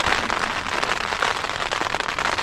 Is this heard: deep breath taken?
no